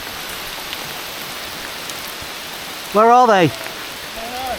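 Steady rain falls outdoors with an even hiss throughout, and a person speaks briefly over it partway through.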